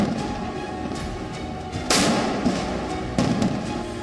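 A few sharp, heavy blasts from warship naval guns boom out at irregular intervals, each followed by a long reverberating rumble.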